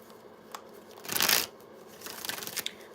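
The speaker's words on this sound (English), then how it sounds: "Let me pull a few more cards." Oracle cards being shuffled and drawn, a brief papery riffle swelling near the middle, then softer slides and flicks of cards, close by with no talking.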